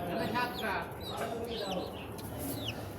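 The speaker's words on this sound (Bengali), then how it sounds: "ব্যালকনিতে খাঁচায় মুরগি পালন করি।" Chickens clucking in a cage on a balcony, soft repeated clucks and chirps at moderate distance over faint background noise.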